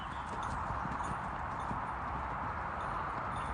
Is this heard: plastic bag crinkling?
no